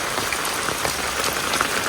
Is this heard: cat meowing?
no